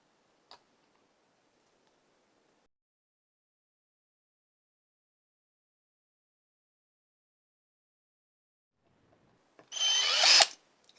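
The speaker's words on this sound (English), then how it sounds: "so we can drill the holes in a better place." A power drill bores into a hurricane wood project in one short, loud burst near the end, after a long stretch of near silence.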